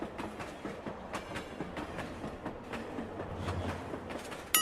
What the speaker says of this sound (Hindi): वो देख हम लोग का ट्रेन आ रहा है